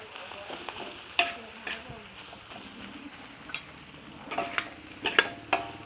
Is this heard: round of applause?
no